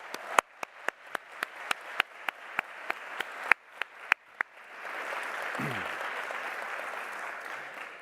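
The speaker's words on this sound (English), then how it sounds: "please, a huge round of applause" Audience at a graduation ceremony clapping, first as sharp, evenly spaced single claps, then swelling into a dense, sustained wash of applause from a large crowd.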